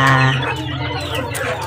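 Chicks and chickens clucking at feeding time, a loud, close mix of overlapping clucks and cheeping calls that runs continuously without pause.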